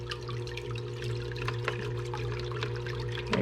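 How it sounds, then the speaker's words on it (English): Water runs steadily through a clean-up gold sluice with the flow turned down, a soft continuous trickle and pour close by with small splashy spikes, no voices. "Okay, we got that flow dialed down a bit now."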